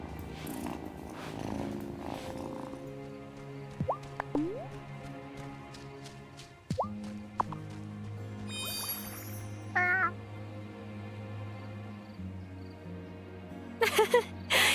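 A cat in the Wylde Flowers video game purrs steadily and lets out a few rising meows, with soft game music and tinkling chimes in the background.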